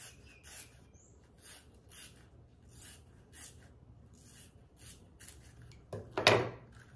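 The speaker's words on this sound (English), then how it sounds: "take a scissors and cut a small strip" Scissors snipping a small strip from a rolled banana leaf cone, a series of quiet, crisp clicks and rustles repeating steadily, ending with one louder crunchy cut close by.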